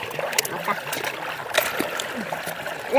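Tapioca root is washed by hand in water, with splashing and trickling at close range, scattered thumps and dribbles, and people talking over it.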